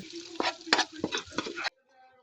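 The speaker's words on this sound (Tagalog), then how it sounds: "Igisa ang bawang." Garlic sautéing in melted butter in a pan gives a short, close burst of sizzling with a few stirring scrapes, then cuts off abruptly into near silence.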